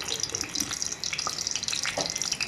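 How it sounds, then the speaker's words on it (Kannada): A tablespoon of mustard seeds splutters in hot oil while tempering for a festive chickpea usli. A dense, close crackle of rapid pops and sizzling runs steadily throughout. "ಸೌಂಡು ಎಷ್ಟು ಚೆನ್ನಾಗಿದೆ ಅಲ್ವಾ ಕೇಳಿಸ್ಕೊಳ್ಳೋಕ್ಕೆ ಸಾಸಿವೆ ಕುಡಿಯೋದು"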